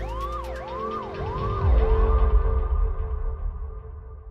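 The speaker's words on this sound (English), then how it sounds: "All she could do was watch as the ambulance sped away with her son." A wailing ambulance siren sweeps up and down repeatedly, loud and near, with a low rumble of traffic building beneath it.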